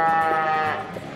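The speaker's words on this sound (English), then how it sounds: "I'm just looking at the cows." A cow moos once on a farm just after an Arctic cold snap, a single loud, drawn-out low call close by.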